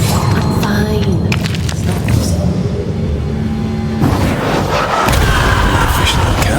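Booming cannon-powder blasts in Banishers: Ghosts of New Eden, dense, loud and continuous, with a sharp burst near the middle and another heavy surge toward the end.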